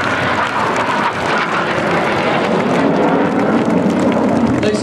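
Red Arrows jets flying the Twister manoeuvre at a Scottish air show, a loud continuous broadband jet roar that swells and holds steady throughout, with no voices heard.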